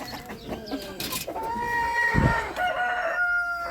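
Australorp chickens in a poultry yard, with a rooster crowing in the middle and hens clucking around it, close and moderately loud amid background rustling.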